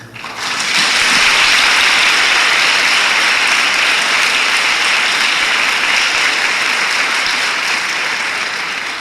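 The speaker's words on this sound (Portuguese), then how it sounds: "Vamos dar uma salva de palmas ao Senhor." Loud, dense audience applause at a church youth congress, a sustained wash of many hands clapping that swells quickly and holds steady to the end without speech.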